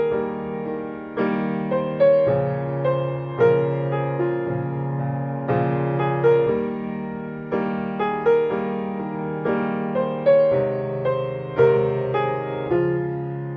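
Solo piano plays the slow right-hand melody of a song, single sustained notes and soft chords sounding one after another and fading between phrases, with no talking.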